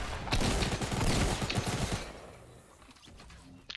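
Heavy gunfire from a grenade launcher and a pump shotgun in Fortnite, loud overlapping blasts for about two seconds, then a quieter tail of scattered shots and rumble.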